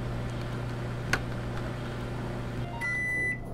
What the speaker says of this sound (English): Close the door and let me get a shot of the microwave running.